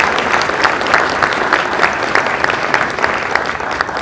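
A crowd of student athletes and guests at a high school signing day event gives a sustained, loud round of applause, with bright, dense clapping and no speech.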